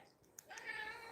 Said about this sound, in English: That was a weird meow.